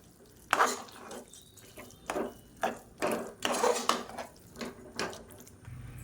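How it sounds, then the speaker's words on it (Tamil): Venpongal with ghee and oil is stirred in a pot, giving about eight separate spoon-on-metal scrapes and knocks at an uneven rhythm. They are close and fairly quiet, with no voices. "எல்லாத்தையும் நல்லா மிக்ஸ் பண்ணி விட்டுக்கலாம்."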